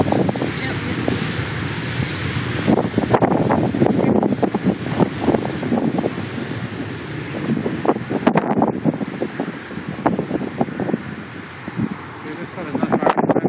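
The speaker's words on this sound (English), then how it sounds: "the wind is coming sideways" Wind buffets the microphone at Dublin airport with a steady rumbling roar and gusty bursts, while people talk throughout.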